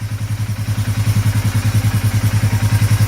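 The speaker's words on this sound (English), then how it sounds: "it's been idling now for about 15 minutes." An engine idles close by with a steady, rhythmic chugging pulse and a low rumble, no voices.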